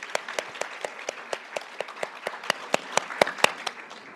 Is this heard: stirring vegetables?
no